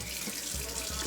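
Tap water runs steadily into a sink as celery is washed, a soft continuous splashing hiss with small bumps from handling, no voices.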